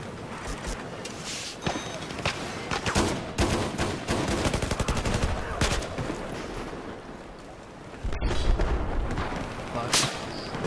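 Dense Battlefield 4 multiplayer gunfire in a Rush match: rapid cracking shots and automatic bursts pile up with heavy booms, loud and near, briefly thinning before another hard volley.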